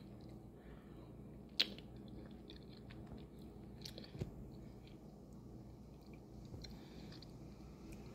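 Someone eats Fugini canned black beans with a spoon, soft close chewing and wet mouth sounds with a faint spoon tap, quiet and continuous.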